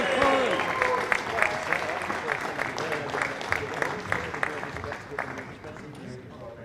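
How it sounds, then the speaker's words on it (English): An audience at a boccia national titles ceremony claps for a bronze medal winner, scattered distinct hand claps over crowd murmur and talk, fading toward the end. "Round of applause for Corey Molan."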